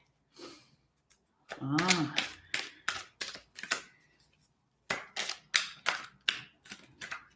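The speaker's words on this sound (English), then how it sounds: "the cards are really not allowing me to shuffle them right now" Oracle cards being shuffled by hand, giving bursts of quick riffling snaps and clicks in uneven clusters, close up, with a brief murmur of speech near the start.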